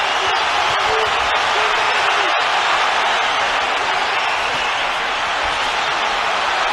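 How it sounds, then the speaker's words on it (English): A packed boxing arena crowd roars at the Canelo Alvarez vs Gennady Golovkin fight, a loud, continuous wash of cheering with a commentator speaking over it. "the crowd are going crazy"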